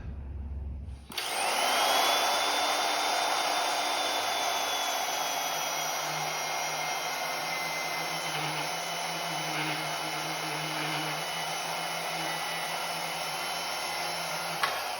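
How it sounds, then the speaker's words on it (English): Portable band saw cutting a 2 1/8 in diameter plastic rod to length, a steady loud whining motor and blade drone that starts after a second and runs continuously to the end with no talking. "So I'm going to lop off a piece that's about 2 3/4 long. And I'm going to use the portaband."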